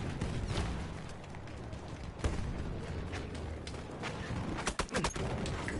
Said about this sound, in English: There's literally just gunfire everywhere.